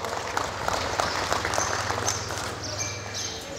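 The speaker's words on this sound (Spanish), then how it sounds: "Un fuerte aplauso, por favor." Applause rises from an audience at an agricultural and craft fair, a steady patter of clapping heard at moderate distance and fairly faint, continuing evenly throughout.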